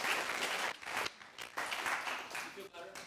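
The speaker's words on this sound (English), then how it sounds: "Clap for Big Boom." Scattered clapping from a group rises in a few bursts, then tapers off, with a voice briefly audible near the end.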